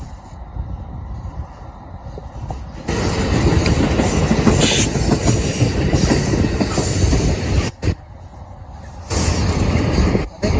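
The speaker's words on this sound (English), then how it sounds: "And there's the Amtrak." An Amtrak passenger train rolls past near a beach campground, a loud, close, continuous rumble with rail clatter and high squealing wheels that swells and holds across the whole stretch.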